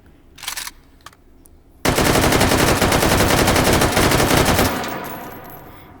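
Rapid full-auto AK rifle fire from Hot Dogs, Horseshoes and Hand Grenades, a loud close burst of about three seconds that rattles steadily and then trails off, preceded by a couple of softer mechanical clicks.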